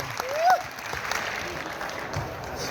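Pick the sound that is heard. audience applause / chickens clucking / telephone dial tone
audience applause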